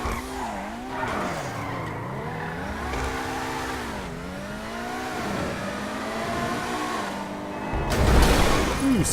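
A super car in GTA V skidding under the handbrake: a long wavering tire squeal over a steady engine roar, pitch sweeping up and down through the turns, ending in a louder burst of skidding.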